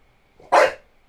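One sharp, loud bark from a nearby dog aimed at a toy box indoors, a short, punchy burst set against quiet surroundings.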